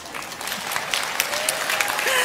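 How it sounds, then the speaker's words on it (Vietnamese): Audience applause at a live Vietnamese comedy stage show, a steady wash of clapping that swells slightly and holds for a couple of seconds, with faint crowd murmur beneath. "Khóc cũng vỗ tay."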